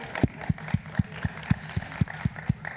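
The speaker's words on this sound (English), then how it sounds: "Big applause for car person, Kruiderman." Slow, regular claps spaced about a quarter second apart ring out close and distinct, like a small group or single person clapping in rhythm at a classroom session, with faint room murmur between.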